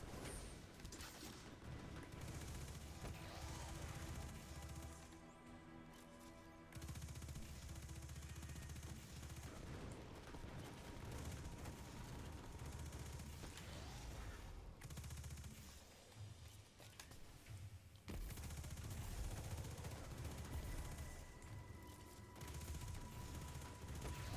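Gunfire in the Destiny 2 video game during a Europa lost sector fight, with dense sustained automatic fire and heavy impacts running nearly throughout, loud and continuous with brief dips.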